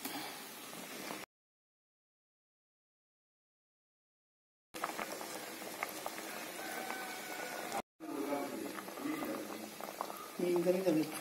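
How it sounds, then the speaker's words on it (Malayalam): Fish curry bubbles in a pot on the stove, a close, soft crackle of simmering liquid that drops out into two silent gaps before returning steadily. "മീൻകറി തിളച്ച് അഞ്ചു മിനിറ്റ് കഴിഞ്ഞു."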